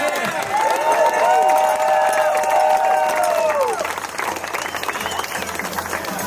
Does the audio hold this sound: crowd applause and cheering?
yes